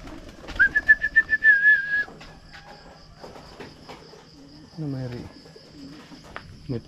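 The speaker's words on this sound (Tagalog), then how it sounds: "Dami kasing kalapati" Pigeons coo in a short series of soft, throaty calls, with insect chirping and a brief voice in the background outdoors.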